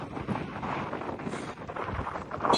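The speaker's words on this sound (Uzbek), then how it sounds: "Kun issiq. Shamol bo'lib yotibdi. Shamolga qarshi." Wind gusts on a hot day on a long road journey, a steady broadband rushing noise that rises and falls, with no speech.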